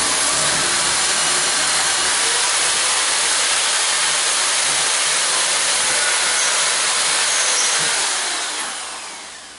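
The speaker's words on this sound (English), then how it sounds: "We're going to drill out a 1/4-inch." A loud, steady high-pitched whir of a power drill boring a 1/4-inch hole through wood, running continuously for several seconds before winding down at the end.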